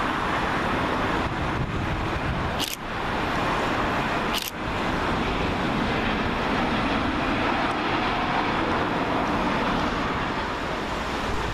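Sun Express Airbus A320-232 arriving at Manchester Airport on runway 23R, a steady loud broadband roar of jet engines sustained throughout with two brief sharp clicks near the start.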